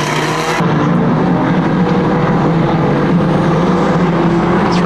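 A classic banger racing car, a Datsun-era stock car at a Kings Lynn oval event, restarts and drives off, its engine roaring loud and steady close by after an abrupt start.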